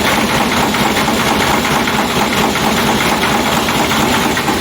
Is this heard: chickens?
no